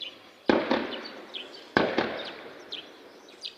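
Gunfire in Rusizi, Rwanda: two loud, sharp shots about a second apart, each trailing into an echoing decay, with a softer crack after the second and birds faintly calling near a maize field.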